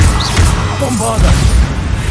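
Bombarda spell explosion in Hogwarts Legacy, a loud, deep, rumbling blast that fills the moment with heavy low booming and crackling debris, with a brief voice cry over it.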